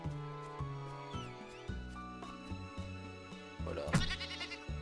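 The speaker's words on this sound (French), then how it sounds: "Ça c'est une chèvre." Goat bleats in the survival sandbox game Ylands, a few quavering calls over steady in-game background music, with one louder, harsher bleat near the end.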